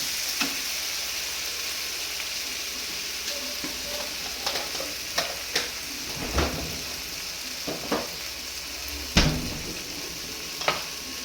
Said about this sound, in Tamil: தக்காளி வந்து நல்லா மசியல் ஆகணும், அது வரைக்கும் வணக்குங்க.